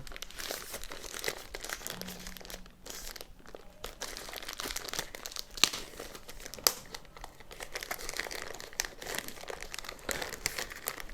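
Continuous plastic crinkling and rustling, close up, with irregular crackles and a couple of sharper snaps as a plastic bag holding three Wi-Fi mesh units is handled; no talking.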